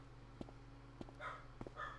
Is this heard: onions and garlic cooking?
no